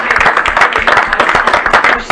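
A burst of applause from a small group at a board meeting, close and fairly loud, with quick uneven claps lasting a couple of seconds.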